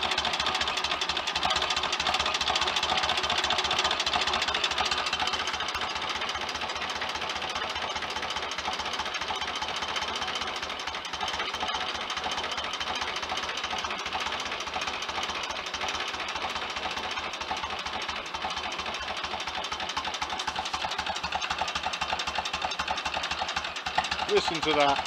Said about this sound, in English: What a beautiful old engine.